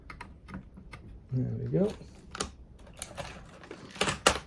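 Computer keyboard on a vintage Super Socket 7 PC setup is heard as scattered, close typing clicks and key taps, with a man's brief speech in between.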